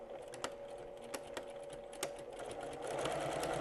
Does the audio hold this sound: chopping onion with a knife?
no